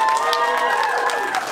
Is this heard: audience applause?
yes